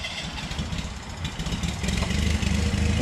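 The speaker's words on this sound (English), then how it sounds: "So tractor time." A tractor engine runs steadily at close range, a low rumbling idle that grows slightly louder toward the end, used to drag home a blue mini pickup truck that won't roll on its own.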